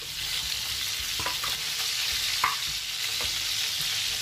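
Chicken pieces frying in a pan for chicken dum biryani, a steady close sizzle broken by a few sharp stirring clatters, with no one speaking.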